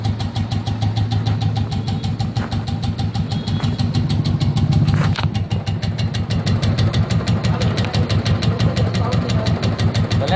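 Royal Enfield motorcycle engine idling with an abnormal tik tik sound, a steady rapid ticking pulse over a loud close engine rumble throughout.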